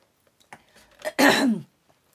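After a sip of water, a single brief throat clearing bursts out near the microphone, preceded by a few soft breaths and small mouth sounds.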